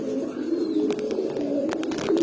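Pigeons of Pankhi, Grizzle and Baghdadi Homa breeds coo continuously up close, a low rolling burble punctuated by a few sharp clicks and rustles.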